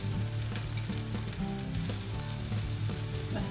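Red pepper for a vegan, eggless French omelette filling sizzles steadily in a hot frying pan, a close, continuous crackle with no talking.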